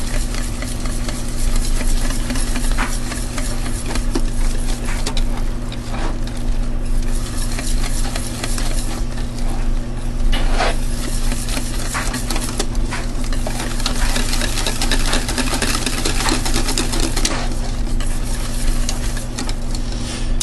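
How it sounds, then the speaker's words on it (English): A whisk beats white Texas sheet cake batter in a bowl, with continuous rhythmic scraping and tapping over a steady low kitchen hum, lasting the whole stretch without speech. "Switch to a whisk so that I can get this nice and smooth."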